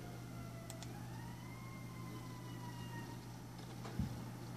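A distant siren in South Jersey wails in slow rising and falling tones over a steady low hum, with a brief thump near the end.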